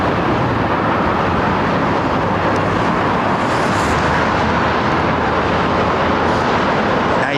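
Loud, steady broadband roar of an airliner departing overhead from runway 09R at London Heathrow, sustained throughout with no breaks and no talk.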